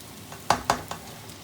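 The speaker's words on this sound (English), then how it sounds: "I've got to fry it all now till it's dark brown, then add the masala." Chopped ingredients for a prawn and egg curry fry in a pan, with a soft sizzle under two sharp utensil knocks against the pan, heard close up with no talking.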